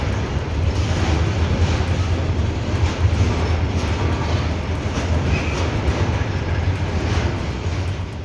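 An Oxygen Express train carrying liquid medical oxygen tankers runs along a railway with a loud, continuous rumble and faint rhythmic clatter of wheels on track, steady throughout with no voices.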